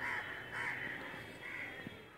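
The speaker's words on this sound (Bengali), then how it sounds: "এই যে এখন কাক ডাকছে" A crow caws repeatedly in a garden, several harsh, evenly spaced calls at moderate distance over a steady outdoor background.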